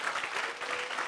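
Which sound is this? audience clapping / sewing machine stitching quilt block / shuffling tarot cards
audience clapping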